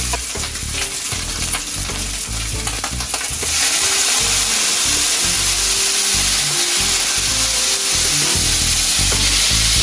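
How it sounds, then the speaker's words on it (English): Pork belly sizzles loudly in a hot pan after being flipped, with braising liquid added; a dense, close frying hiss with stirring clatter, growing brighter partway through. "We're gonna flip the pork belly and add our braising liquid."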